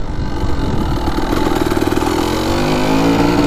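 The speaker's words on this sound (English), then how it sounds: "Just warming up the bike before we do this top speed run." A Kawasaki KDX 200 dirt bike engine warms up at a steady, close, loud idle, its even two-stroke rumble running throughout with no voices.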